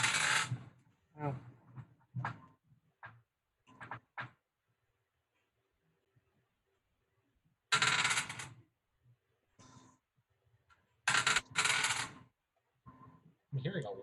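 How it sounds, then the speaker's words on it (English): Dice clattering and rolling on a table during a tabletop role-playing game, several short bursts of rattling separated by quiet gaps, with people talking between rolls. "I'm hearing a lot of dice"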